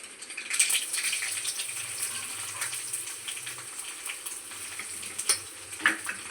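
Steady crackling sizzle of dried red chilies frying in hot oil with popped mustard seeds, with a few louder pops and spatters near the end.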